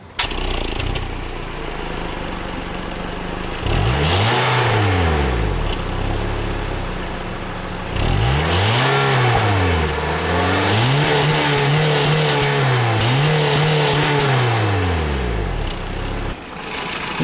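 A 1.3-liter four-cylinder engine in a Honda Civic Hybrid revs up and down in several loud, sweeping bursts, close to the listener, with a steady idle running between the pulls.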